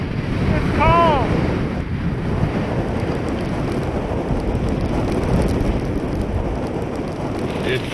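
Steady wind and rain batter an exposed Cape Cod shoreline in cold, sleety weather, a dense continuous roar with surf-like wash throughout and a brief whistling tone near the start.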